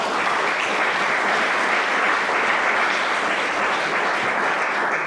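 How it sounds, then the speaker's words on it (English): Audience at a church concert of traditional music applauding for a performer, steady dense clapping filling the room at full volume throughout with no break. "Give him another big round of applause."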